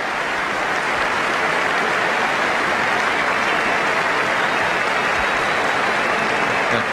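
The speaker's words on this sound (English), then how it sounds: "The crowd have just clapped because 200 has gone up on the scoreboard" A cricket crowd at the 1992 World Cup final between Pakistan and England applauds steadily, a dense, loud wash of clapping that holds at an even level throughout with no voices standing out.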